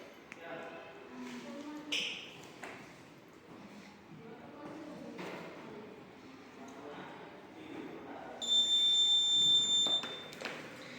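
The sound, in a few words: alarm buzzer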